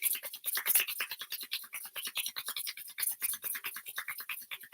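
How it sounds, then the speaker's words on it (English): Palms of the hands rubbed briskly together in a quiet room during a yoga session, a close, soft, rhythmic swishing of skin on skin repeating steadily for several seconds. "just start rubbing the palms together"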